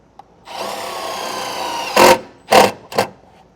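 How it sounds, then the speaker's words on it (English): A power drill drives a self-tapping screw through a wiring module into the frame of a 2025 Toyota, with a steady whir of about a second and a half followed by three short, louder bursts as the screw bites and seats. "I'm also going to use a self-tapper and put this through the hole in our module into a spot of the frame"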